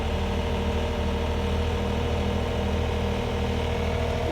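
A CFG KU45 Chinese mini excavator engine idles steadily, a close, constant low diesel drone with even mechanical hum and no change in pace.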